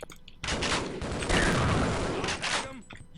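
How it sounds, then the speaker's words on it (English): Sustained rapid weapon fire from a grenade launcher in a classic first-person shooter game, a dense loud barrage of blasts lasting over two seconds with a voice speaking underneath. "You're a terror with that grenade launcher."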